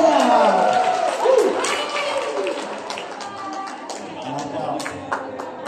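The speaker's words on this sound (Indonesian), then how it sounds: "Tepuk tangan semuanya." A group claps together at the close of an Indonesian academy discussion event, scattered applause mixed with crowd murmur and voices talking over it, fading somewhat toward the end.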